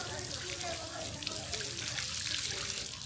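Water pouring steadily from a hose pipe laid down at a home in Gujarat, a continuous rushing splash at close range with low voices murmuring faintly underneath.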